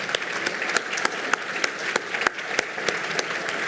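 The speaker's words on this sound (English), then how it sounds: "we all owe a big round of applause for our foundation team" An audience at an annual foundation meeting applauds its foundation team, a dense, steady round of clapping in a hall with a few sharper individual claps standing out.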